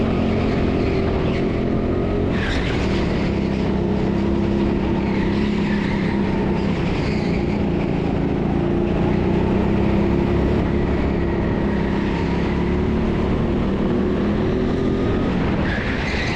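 Go-karts lapping a TeamSport Sheffield indoor track in qualifying, a steady continuous engine drone with passing whines and a couple of sharp surges, loud and close throughout.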